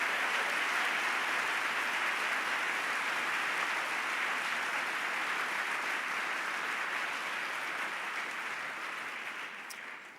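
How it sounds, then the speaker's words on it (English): Steady, dense audience applause at a music publishers' annual meeting, a continuous wash of many hands clapping that holds level for about ten seconds before easing slightly at the end. "Please join me in giving Lisa and Lynn a round of applause."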